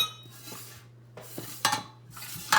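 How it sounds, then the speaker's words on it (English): Soft scraping and a few light metallic clinks and taps, close by, as sourdough banana bread batter is spread into a metal pan against a low steady hum. "And then we're going to pour it into our"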